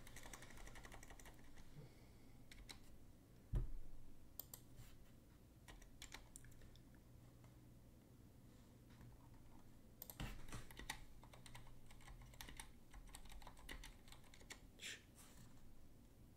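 Someone types on a computer keyboard during a Twitch stream, a faint, uneven patter of key clicks in bursts with a couple of sharper thuds and no speech.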